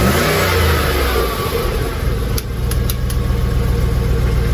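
Jaguar XJ8 Sport V8 engine, just fitted with a new catalytic converter, revving up from a steady idle, a loud close rumble that swells and eases again with no voices.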